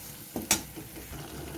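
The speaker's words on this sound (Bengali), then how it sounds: "শুকনো মশলাটাকে এই পেঁয়াজের সাথে একটু নেড়ে চেড়ে নিয়ে দিয়ে দেবো বেটে রাখা মশলা" Dry spices stirred into fried onions in a pan, with a couple of brief scraping knocks over a soft, steady sizzle; quiet and close, no voices.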